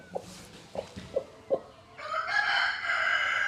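A hen in a Pakistani village yard clucks in a series of soft, separate low clucks, then breaks into a louder, sustained squawking call that runs to the end.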